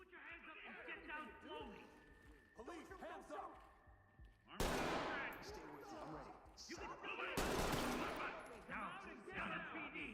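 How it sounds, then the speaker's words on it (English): Gunfire in the tactical shooter Ready or Not: two loud, broad blasts of shooting erupt suddenly and ring out over quieter game ambience while people keep talking throughout. "Who are we shooting at now?"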